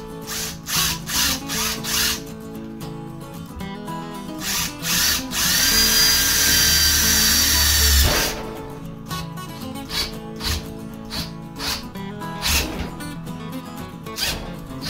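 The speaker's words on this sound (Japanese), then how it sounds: "下穴を開けてからドリルビスで固定していきます" A power drill whirs in short bursts while drilling pilot holes and driving drill screws to fix a partition door, with a longer sustained high-pitched drilling run in the middle, followed by more brief screw-driving bursts and clattering.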